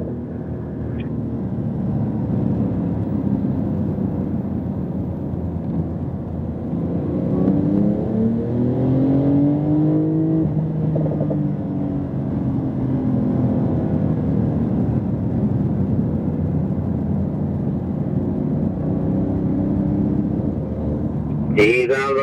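Porsche 911 Turbo S engine pulling steadily under throttle on a race track, a continuous rising drone with shifting tones, heard from inside the car beneath a driving instructor's ongoing talk.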